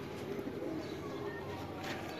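Pigeons coo softly in a loft in Gujranwala, with low murmuring calls under a constant noisy background and faint talk.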